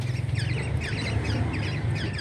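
A pet bird kept beside a coastal crab-trapping camp gives repeated raspy squawking calls, close and fairly loud over a steady low background hum, with no talk.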